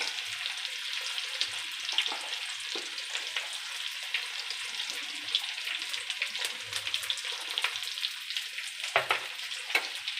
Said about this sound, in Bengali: এবার আমি এর মধ্যে পেঁয়াজ দেবো। লঙ্কা দিয়ে দিলাম।